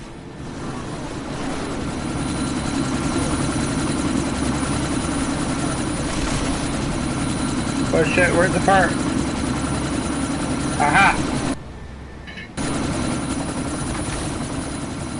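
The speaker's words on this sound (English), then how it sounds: "That chopper's about to take off!" A helicopter rotor in the video game Deus Ex Mankind Divided drones steadily at moderate loudness as the chopper prepares to take off, while a player talks over it and brief game sounds chirp briefly.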